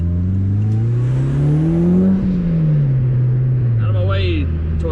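Mitsubishi Evo V engine while driving through Japanese streets, a loud close drone rising in pitch then easing off as it accelerates and shifts, with brief voices over it.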